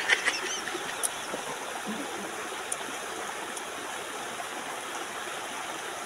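A small creek flows in a steady, close rushing wash, with a few faint bird calls or clicks at the start.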